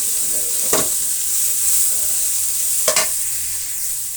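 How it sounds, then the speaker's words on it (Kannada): One grated carrot fries in a pan for an egg omelette gobi rice, giving a constant hissing sizzle. Two sharp scraping stirs cut through it, one early and one near the end. "ತುರಿದಿಟ್ಕೊಂಡಿರೋದು ಒಂದೇ ಕ್ಯಾರೆಟು, ಅದನ್ನು 1 ನಿಮಿಷ 2 ನಿಮಿಷ ಫ್ರೈ ಆಗಲಿ."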